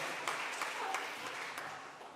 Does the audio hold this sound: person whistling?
no